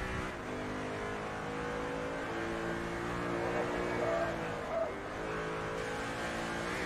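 A Corvette race car engine in Forza Motorsport 3 drones steadily with harmonic revving that rises and dips through gear changes, loud and continuous for several seconds with no talking.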